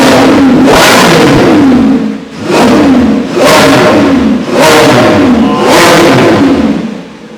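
A 2024 Lamborghini Revuelto's naturally aspirated 6.5-liter V12 revs loudly outside in four strong, rising bursts, each falling back briefly between pulls, with no voices.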